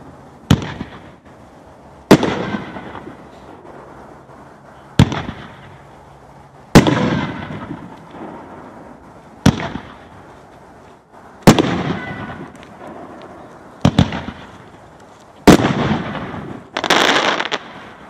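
Khaotic Kaboom 9-shot consumer firework cake going off, a series of sharp loud booms spaced a couple of seconds apart, each trailing into crackle and rumbling echo, heard outdoors at moderate distance with no voices.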